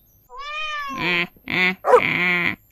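A cat cries out as a dog catches it, with a rising meow followed by two more strained yowls, loud and close with no other sound around them.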